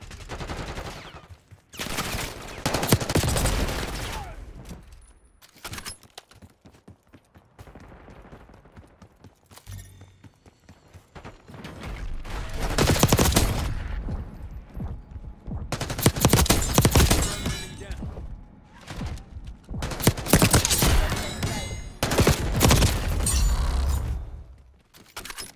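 MP5 submachine gun fire in Black Ops 6 multiplayer, rapid bursts of close, loud automatic shots coming in several separate volleys with quieter gaps between them.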